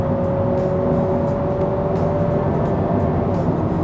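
A 2023 Honda Civic RS Hybrid with a 2.0 engine accelerates on a test drive, its engine giving a steady, close, sustained drone with a rising tonal whine and no talk over it.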